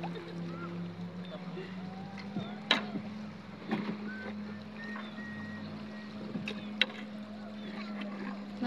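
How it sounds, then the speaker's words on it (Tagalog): Low steady hum of a boat on the Abuan River with soft water slosh, a few sharp knocks and clatters now and then as the hull rocks on gentle waves. "Paalon-alon yung bangka namin."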